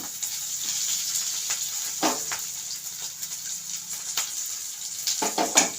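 Onions fry in a pan until brown, giving a continuous close sizzle with small crackles and occasional soft stirring clatters, with no talking.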